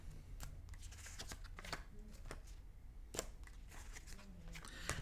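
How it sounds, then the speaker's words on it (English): Oracle card deck being handled during a tarot-style reading, with repeated soft card flicks and slides, close and fairly steady, over a low room hum and no talk. "I'm going to pick 2 cards out of this, and I'm going to leave them face down"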